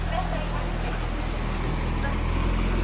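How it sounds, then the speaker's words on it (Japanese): A motorboat engine drones steadily at a distance on the Omihachiman canals in Japan, a low continuous hum over the wash of water and open-air noise. "なんか向こうエンジンついてる。"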